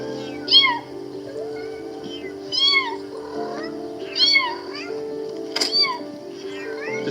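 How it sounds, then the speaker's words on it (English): A kitten meows repeatedly at a steady pace, with five or six clear, fairly close cries over a constant low background hum. "Now the kitten is moving closer to get the food that they're throwing."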